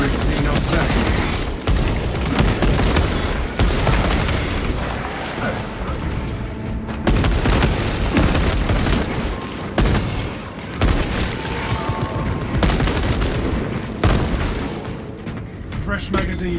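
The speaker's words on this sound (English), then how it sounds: "It is tempting to fire these cannons at the nearest Xenos vessel." Heavy Imperial vessel cannons in Space Marine 2 fire in a long barrage of repeated booming blasts, loud and dense, with other battle noise mixed in.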